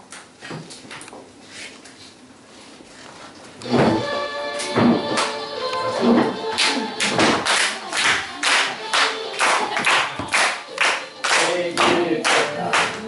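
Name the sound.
audience clapping along while singing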